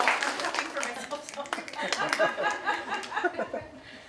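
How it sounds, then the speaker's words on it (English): A poet at a poetry night claps for herself, a short run of bright, uneven hand claps close by, mixed with light chuckles and voices from the room throughout. "clapping for myself"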